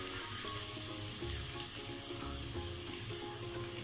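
Onions browning in oil as whole cumin seeds go in for a khara masala keema, a continuous close sizzle and crackle with soft stirring, no voices.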